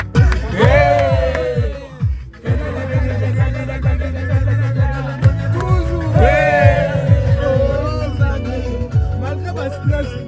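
A film crew cheers at the wrap of a commercial shoot, a lively group of whoops and shouts rising in two loud waves, close and boisterous.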